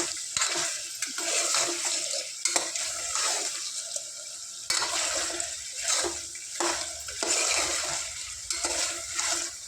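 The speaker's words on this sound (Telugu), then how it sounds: "చక్కగా ఇందులో ఫ్రై చేసుకోవాలి ఫ్రెష్ అల్లం వెల్లుల్లి పేస్ట్" Fresh ginger-garlic paste frying in a pan for a chicken curry, a steady broadband sizzle with intermittent scraping and clinking of a spoon against the pan, fairly close and continuous with no talk.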